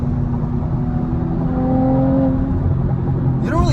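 A 2019 Audi RS5 Sportback engine rumbles steadily and rises slightly in pitch as it accelerates on concrete pavement, heard from inside, with a faint whir over a constant low drone.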